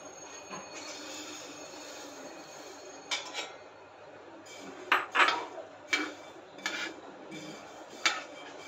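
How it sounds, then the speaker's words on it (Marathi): Coriander seeds rattle and scrape across a hot metal griddle as they dry-roast, in short, irregular bursts, close and fairly quiet, with a faint steady hiss underneath. "आता आपण पहिल्यांदा धने भाजून घेऊया"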